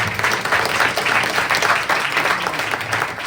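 A crowd applauds steadily, dense clapping from many hands filling the room without pause.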